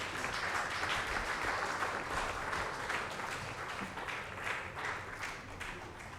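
An audience at the NTA Awards 2024 open mic event claps continuously for a guest being honoured. The applause is a soft, even wash heard from a distance, holding steady throughout without any clear pause.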